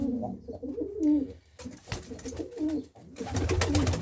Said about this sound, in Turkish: Vallahi her tarafım kuş doldu